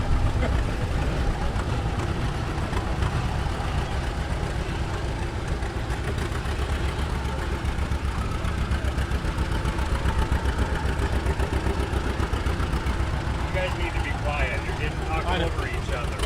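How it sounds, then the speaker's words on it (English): Tractors rumble past during a live outdoor event, a steady low engine drone that holds loud throughout with voices talking over it. "More tractors. More tractors coming."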